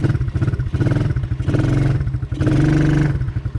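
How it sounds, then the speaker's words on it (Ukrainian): Forte Orix Hunter Scrambler children's quad bike engine pulls away, a close small-engine putter that rises in pulsing surges of revving and clatter. "Стартує відразу, стартує достатньо бадьоро."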